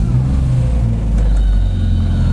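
Spoon Sports Honda Civic SiR EG6 N1 race car engine running just after starting, a loud, close, low rumbling idle with a slight rise in revs partway through.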